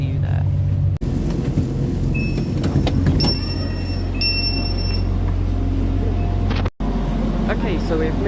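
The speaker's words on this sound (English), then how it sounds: "we're on the Transport for Wales from Chester to Manchester Piccadilly" Inside a Transport for Wales train running from Chester to Manchester Piccadilly, a steady low engine and rolling rumble fills the cabin, with faint tonal whines and a couple of brief dropouts, and no clear talk.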